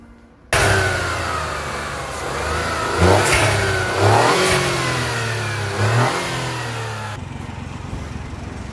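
A Mini Cooper's three-cylinder engine pulls along on a test drive, a steady mid-pitched drone that rises in a few revving surges and falls back, close and continuous with no talk.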